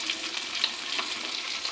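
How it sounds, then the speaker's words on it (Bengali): Small rohu fish frying in hot oil in a pan, a steady, dense crackling sizzle with fine pops that holds evenly throughout, close and alone with no voices. "দেখো আমার মাছটা কড়া করে ভাজা করে নিয়েছি।"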